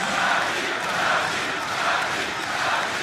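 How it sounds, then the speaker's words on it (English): A large esports arena crowd at the 2014 All Stars event in Paris roars and cheers steadily, a dense, loud wash of voices swelling and easing without pause. "And you can hear the crowd. You can hear it."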